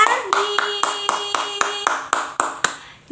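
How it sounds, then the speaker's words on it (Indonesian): Rhythmic group clapping from a primary school class, about a dozen sharp claps in steady time, fairly loud and close, with a sustained voice tone underneath, applauding a student during a civics lesson. "Betul, tepuk tangan buat Ardi."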